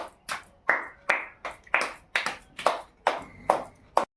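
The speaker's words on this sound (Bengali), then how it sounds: "এই যে সব ভালো হাততালি দিয়েছে" Hands clap at a birthday celebration at home in about ten crisp, close claps, slightly uneven in rhythm, with short gaps between them. No voices are heard.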